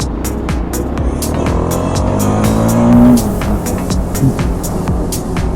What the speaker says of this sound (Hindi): अब मुझे एग्जॉस्ट का जो नोट है प्रॉपरली सुनाई देता है